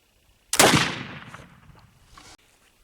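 A single sharp gunshot from a gun loaded with homemade Pacific willow charcoal black powder cracks loudly up close, then a long rolling echo decays over about two seconds outdoors before cutting off.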